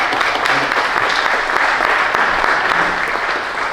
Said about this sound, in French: On peut peut-être applaudir le secteur bancaire qui arrive premier de la classe